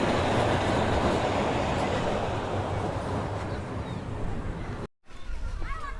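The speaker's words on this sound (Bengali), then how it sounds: "বাচ্চাদের খেলাধুলার জন্য যেমন ট্রেন আছে" A loud, steady rumble of a small children's ride train rolls past up close at a park in Khoksa, Kushtia, then breaks off suddenly before the noise resumes with faint squeals.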